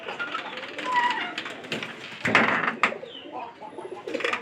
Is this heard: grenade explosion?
no